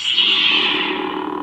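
A toy lightsaber blade hum, a bright buzzy electronic whoosh that slowly fades and lowers, close and fairly loud.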